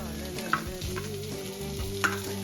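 Grated potato stirred into a turmeric and chili-spiced mixture in a pan for bread bonda filling, a steady soft sizzle with two sharp spoon scrapes against the pan, no talk.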